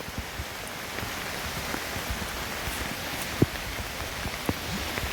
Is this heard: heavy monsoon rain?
yes